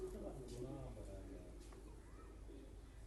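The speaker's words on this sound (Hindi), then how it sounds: "ये है प्योर पिपला कबूतर, पिपला वाला" Pure Pipla pigeon cooing in soft, repeated low notes, close by, with someone talking over it.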